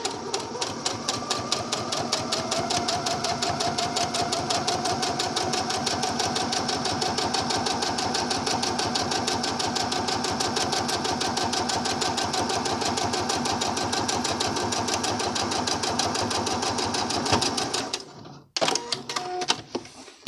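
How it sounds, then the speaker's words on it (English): A sewing machine runs steadily at close range, stitching a scallop waist skirt with a fast, even mechanical rhythm for nearly the whole span before stopping briefly near the end, then giving a few short restarts. "So I'm going to go ahead and start stitching."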